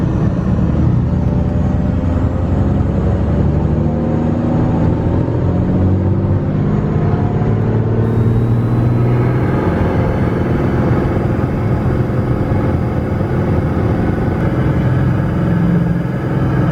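A Piper Malibu PA-46 light aircraft's piston engine roars steadily and loudly at takeoff power, a dense continuous rumble with a rising whine partway through, with no talk over it.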